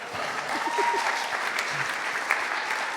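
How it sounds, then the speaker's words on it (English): A congregation in a church service applauds, continuous close clapping filling the short moment with faint murmurs underneath. "you can give him applause."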